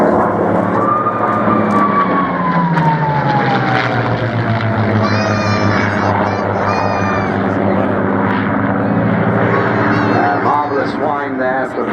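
P-51 Mustang propeller aircraft flying at the Wings and Wheels airshow at Dunsfold, a loud continuous engine drone that sweeps down in pitch as it passes, heard under steady talking from a commentator and crowd.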